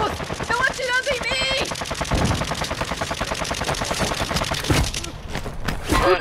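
Rapid automatic gunfire from Call of Duty: Modern Warfare II, loud and dense bursts running nearly throughout, mixed with other game sounds.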